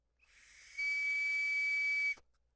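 A small emergency whistle fitted with a compass gives one steady, shrill, breathy blast lasting over a second, close and clear with no voices over it.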